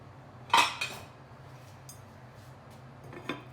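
A lid clanks onto a cooking pot for butter chicken, a sharp metallic clink followed by a lighter rattle, with a soft second tap moments later in a quiet kitchen.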